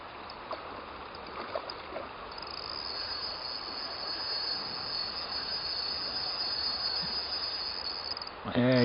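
A trout pulls line from a float-fishing reel in warm late-season water, and the drag screams as a long, steady high whine lasting several seconds over faint outdoor ambience.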